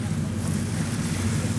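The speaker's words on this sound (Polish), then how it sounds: "Tutaj mamy jednostkę żaglową, która płynie na silniku w tej chwili." A sailing yacht under engine power with its sails lowered, entering harbour near Krynica Morska: a steady low engine drone with wind and water wash, continuous and fairly close.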